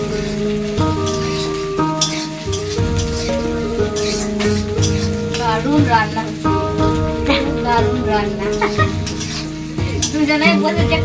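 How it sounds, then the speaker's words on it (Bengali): Onions fry in oil with cumin and chilli, giving a steady loud sizzle with stirring scrapes throughout, while music plays over the cooking. "আর এখানে কিন্তু এবার পেঁয়াজগুলো দিয়ে দিচ্ছি"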